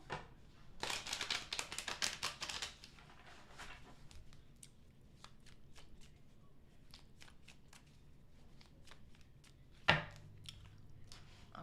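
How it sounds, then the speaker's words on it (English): Tarot cards being shuffled by hand in a quick riffling burst, followed by scattered light taps and card handling, with one sharp knock near the end. "Last shuffle."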